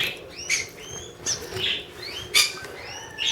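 Red-eared finches chirp in quick, high rising tweets, several calls scattered over a few seconds in an indoor bird room, fairly close with a light background hiss.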